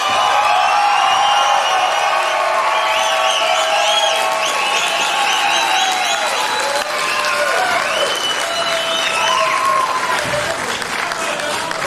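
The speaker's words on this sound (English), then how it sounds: "Please keep this raucous applause going and put your hands together for K." Sustained applause from a comedy club audience at a stand-up show in a theatre, dense and loud throughout with cheers and whoops rising above the clapping.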